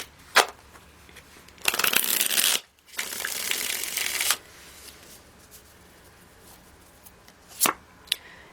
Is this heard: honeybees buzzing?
no